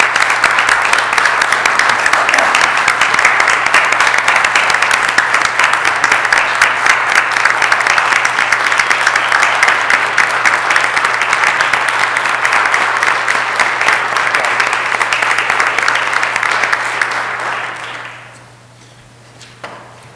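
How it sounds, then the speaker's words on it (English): Sustained audience applause in a city council meeting chamber, dense steady clapping for about eighteen seconds before it quickly fades out, with a steady low hum underneath. "if you give him a big round of applause for all the work he's done here"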